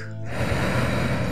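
Deep breath drawn in during a belly-breathing exercise, a steady, close, airy inhale lasting over a second with no talk.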